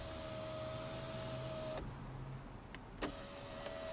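Power sunroof on a 2013 Toyota Prius c Three sliding open with a steady electric motor whine for under two seconds, then a soft stop and a couple of small clicks inside the quiet cabin.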